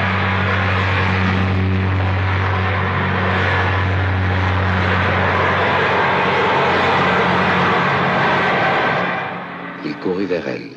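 An airplane engine drones at the Orly airport jetty, a loud, steady hum with a sustained low tone that holds for several seconds before thinning and fading near the end.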